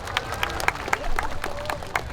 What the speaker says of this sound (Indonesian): Boleh tepuk tangan buat pernikahan saya.